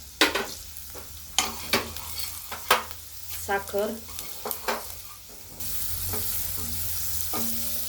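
A spice tempering sizzles in oil for spiced buttermilk, with sharp clinks and stirring scrapes over the hiss, then a steady louder sizzle at the end; a voice speaks briefly.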